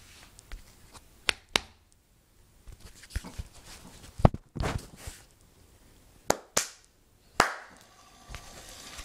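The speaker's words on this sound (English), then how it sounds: "Just gotta clap." Sharp hand claps ring out at irregular intervals to switch on a robotic laser ball, several single and paired cracks standing out against a quiet room.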